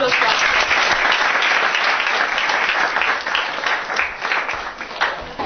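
A crowd gives a loud, full round of applause, thick continuous clapping that holds steady and then thins slightly near the close.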